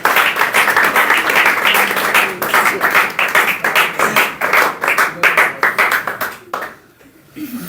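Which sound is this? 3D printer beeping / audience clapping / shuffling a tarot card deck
audience clapping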